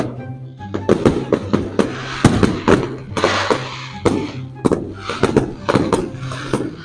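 Repeated sharp fireworks bangs and crackling bursts at an outdoor concert, loud and fairly close, firing in an irregular rapid series with a low tonal hum underneath.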